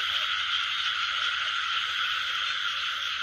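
Frogs croak in a dense, continuous chorus over a rainy rice field, close and steady throughout with no talk.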